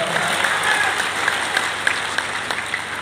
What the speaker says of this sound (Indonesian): Berikan tepuk tangan yang meriah.